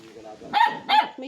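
A puppy at a small rural farm property lets out two short, sharp yaps close by, with people talking around them.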